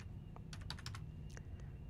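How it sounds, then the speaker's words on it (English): Short run of light, close computer keyboard taps over a low steady hum, with a quick cluster of keystrokes, a brief pause, then a few more. "So I'm going to type right here"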